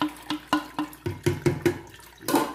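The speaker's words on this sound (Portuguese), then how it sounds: "Eu vou jogar essa água aqui toda aqui dentro, ó, vou coar" Water from fresh corn porridge preparation pours and splashes through a strainer in uneven bursts, close by, ending in a heavier gush.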